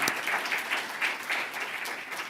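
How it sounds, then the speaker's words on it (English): Sustained audience applause at a Hong Kong construction-industry award launch and memorandum signing ceremony, honouring the session moderator and speakers; an even, dense roomful of clapping that holds steady throughout. "a big round of applause to also Engineer Chang for moderating the session for us"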